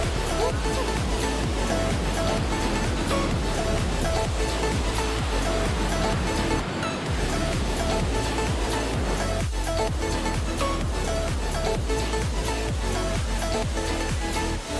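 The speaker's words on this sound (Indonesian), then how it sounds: "menikmati sejuknya deburan air yang jatuh dari atas tebing" Tirai Bidadari waterfall near Probolinggo pouring from a cliff into the river below, a loud, steady, close wash of falling water that holds unbroken throughout.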